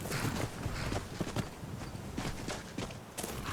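Horse hooves clip-clop in the Skyrim video game, a run of crisp, uneven hoof strikes on hard ground close by, fairly quiet overall, with no talk over them.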